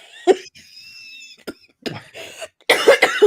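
A person coughs in a fit: a few harsh, separate coughs with pauses between them, then a dense run of rough coughing at the end. The coughs are close and moderately loud, with a faint whine in the background.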